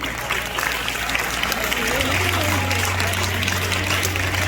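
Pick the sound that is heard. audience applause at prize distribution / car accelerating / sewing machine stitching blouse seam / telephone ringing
audience applause at prize distribution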